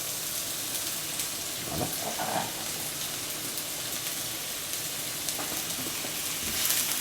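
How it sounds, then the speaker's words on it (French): Onions sweating gently in a little olive oil in a pan over very low heat, a soft, steady sizzle throughout, with a brief stir and one short spoken word. "Et à feu très doux, on va faire suer les oignons."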